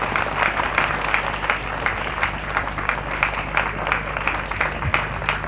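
An audience of students claps at a Christmas address. The applause is loud and sustained, with a steady patter of many hands close by that carries on without a break.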